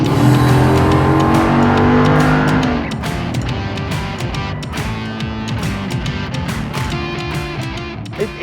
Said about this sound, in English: Now the exhaust valves open up, the nostrils open up, the car can breathe, and you put your foot down